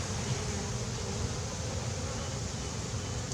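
Honey bees swarming over the brood frames of an opened hive on a small farm, a dense continuous buzzing hum, close and steady, alone without talk.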